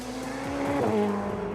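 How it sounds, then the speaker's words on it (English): A Ferrari Challenge Trofeo Pirelli race car at Laguna Seca's WeatherTech Raceway roars past at high speed near 145 mph, its engine pitch sweeping with a brief tire squeal, loud and close. "We're going to let the car track out a little bit to the right, hitting about 145 miles per hour."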